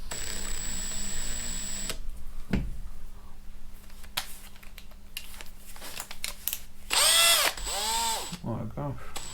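A hand power drill boring a hole in a Rover P5B front door with a 6 or 7mm bit: brief motor whirs and bursts of grinding and ratcheting, fairly close, mixed with clatter and light handling noise.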